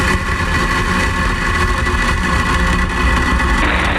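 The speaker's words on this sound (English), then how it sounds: "Ignition. Engines full power. And liftoff of Starlink." Falcon 9 rocket engines roar at liftoff from SLC-4E at Vandenberg SFB on a Starlink launch: a loud, continuous broadband rumble that holds steady throughout with no voices over it.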